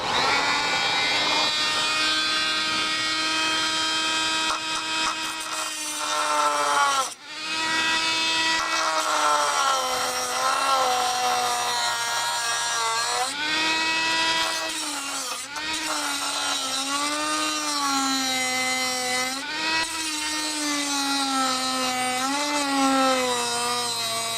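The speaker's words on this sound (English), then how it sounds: "We're cutting through that carbon fiber reinforcement." A power tool cuts through carbon fiber reinforcement on a motorcycle fairing brace, whining loudly and continuously with pitch that dips and wavers as the blade bites, briefly pausing around mid-cut before resuming.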